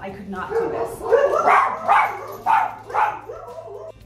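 Dogs yip and bark in a string of short, mid-pitched bursts close by, mixed with someone speaking over them.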